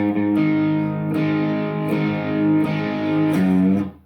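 An overdriven electric guitar rings out a held barre chord, then strikes the same chord three more times. The thick, fuzzy tone sounds loud and close until it cuts off.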